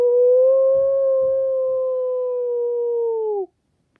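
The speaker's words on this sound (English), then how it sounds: "A long, low howl rang out from the forest." A single long, low howl rings out from a forest, one steady sustained tone that holds for about three and a half seconds before it cuts off abruptly, loud and alone.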